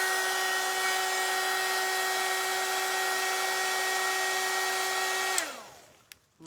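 A hair dryer blows steadily at close range with a high whine, heating glue on a canvas journal cover, then switches off near the end, leaving brief clicks and quiet.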